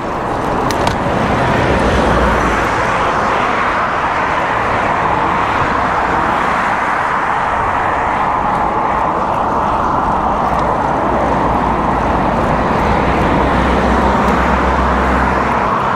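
Road traffic streams past a cyclist on a climbing route during a Gran Fondo ride, a loud, continuous roar of cars and other vehicles with steady wind noise and no talk.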